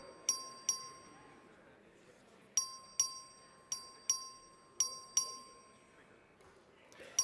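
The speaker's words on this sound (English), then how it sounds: "The clerk will ring the bell." A legislative chamber's bell rings for a record vote, sounding several bright, sharp dings in irregular pairs and singles with quick decays over a quiet room hum.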